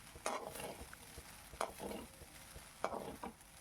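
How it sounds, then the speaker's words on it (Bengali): Egg chicken fried rice with black pepper being stir-fried in a pan, giving three bursts of scraping and sizzling roughly a second apart over a low steady background. "বেশ সুন্দর করে আমি ফ্রাই করে নিচ্ছি"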